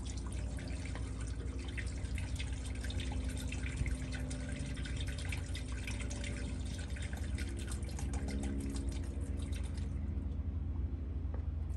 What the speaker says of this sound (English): So now we're gonna add our coolant flush in it.